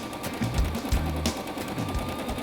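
A sewing machine runs a straight half-inch seam on a tote bag, giving a steady mechanical whir with short bursts of stitching pulses and brief pauses, close and clear.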